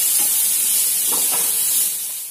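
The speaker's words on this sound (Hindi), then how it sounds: "प्याज को 2-3 मिनट तक हम लोग थोड़ा सा भून कर लेंगे।" Onions frying in a pan with salt added, a steady close sizzle and hiss running through with a few soft stirring scrapes, no talking.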